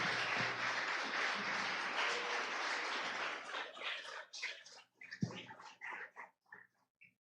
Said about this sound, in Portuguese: Você pode aplaudir o Senhor em nome de Jesus Cristo?